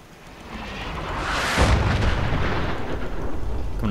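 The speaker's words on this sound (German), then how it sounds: "Wie oft schießen sie denn noch?" Artillery or heavy gunfire in Fallout 4: a rising roar that builds into a loud, close blast around the midpoint, followed by a long rumbling tail of sustained fire.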